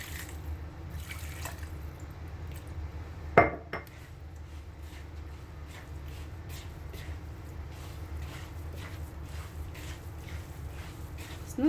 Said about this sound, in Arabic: هنا جبت الماء غادي نخلطها شويه بشويه